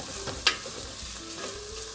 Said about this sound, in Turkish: Ben şimdi buraya da tencereme yıkamış olduğum baldo pirincimi ekliyorum.